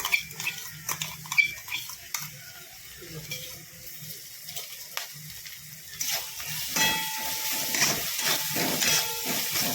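Finely chopped garlic and green chilli added to sautéed onion in a pan, a soft sizzle that swells into a steadier hiss partway through, with faint clicks and scraping under it.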